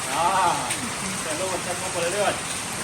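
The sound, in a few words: heavy rain pouring outside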